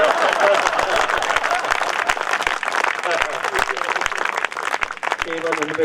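An audience at a Hindi comedy poetry gathering breaks into scattered clapping while a performer keeps talking loudly over it, with sharp individual claps standing out.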